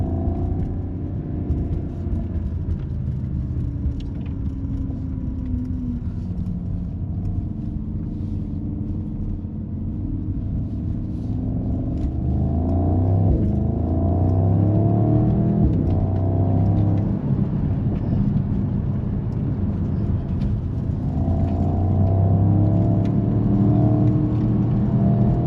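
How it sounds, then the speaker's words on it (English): A 2025 Mercedes-AMG SL 63 S E Performance roadster, a bi-turbo V8 hybrid, drones and rises under acceleration while driving, with a steady close exhaust rumble heard from inside the car and no talking. "Just hear the exhaust sound. This is what a true AMG should sound like."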